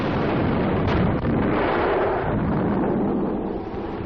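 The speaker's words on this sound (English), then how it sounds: "The tank's own ammunition explodes to complete the job." A tank's own ammunition explodes after a direct artillery hit near Sidon in World War II, heard as a sustained, loud, rumbling roar on a worn, muffled old recording, with no speech.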